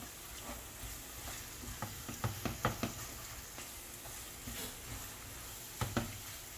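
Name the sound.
ground pork cooking in pan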